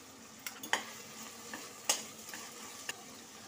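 Ginger garlic paste sizzles quietly in a pan with tomato and green chilies for white pulao, a faint, steady frying hiss with a few light scrapes and taps from stirring.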